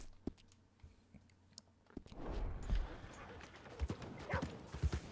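Horse hooves clip-clopping while riding in the Red Dead Redemption 2 game, a soft uneven patter that picks up after a quiet start, with someone talking over it.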